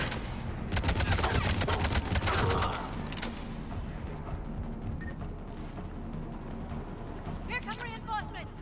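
Rapid bursts of gunfire from a firefight in Mass Effect 3, a loud volley of shots in the first few seconds that thins to sparser reports, with a voice speaking near the end.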